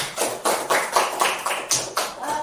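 A classroom group gives applause for a group presentation, a burst of about nine rhythmic, evenly spaced claps or taps that is moderately loud, close and steady, with no talking over it.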